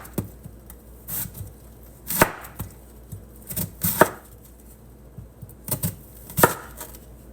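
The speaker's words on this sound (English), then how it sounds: "gotta make some slices." Knife slicing a red onion on a cutting board, about a dozen sharp uneven chops with thuds of the blade on the board, close and fairly loud.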